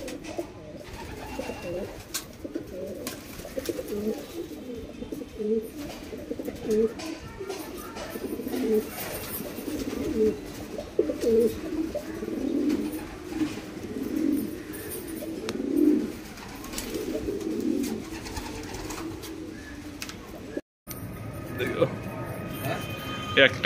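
Madrasi pigeons coo repeatedly in soft, throaty bursts at a pigeon seller's loft in Kolkata, with someone talking throughout over the birds.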